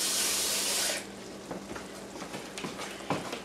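A kitchen tap runs water in a loud hissing stream for about a second and then shuts off, leaving a quieter room with a few soft clinks and taps as the water is used.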